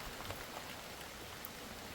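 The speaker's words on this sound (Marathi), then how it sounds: "आत्ता परत यायला सुरुवात झाली पावसाची बघा" Steady monsoon rain in the Konkan region patters evenly on surfaces, a soft continuous hiss of drops with no voices.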